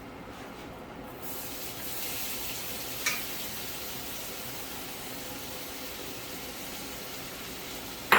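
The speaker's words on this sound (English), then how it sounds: "we are going to now add our fine cut onions to it" Finely chopped onions frying in a pan with spices, a steady even sizzle that starts abruptly and continues alone, with a faint clink midway.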